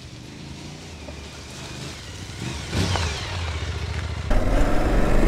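An Aprilia Tuareg 660 adventure motorcycle ridden off-road, its mid-pitched engine droning nearby and rising in revs toward the end, louder in the last second, with no one speaking.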